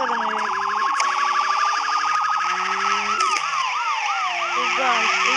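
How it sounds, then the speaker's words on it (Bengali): A police car siren wails in the BeamNG Drive driving game, a loud continuous electronic siren that shifts from a rising tone into fast repeating whoops, with layered tones underneath. "একটা পুলিশের গাড়ি বলতে গেলে।"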